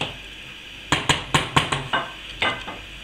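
Cuttlefish Provençal stew being stirred in a pot, a series of about eight sharp metallic clinks from a utensil against the pot in an uneven rhythm, close and clear over a quiet simmering background.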